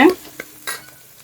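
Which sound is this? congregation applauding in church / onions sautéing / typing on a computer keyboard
onions sautéing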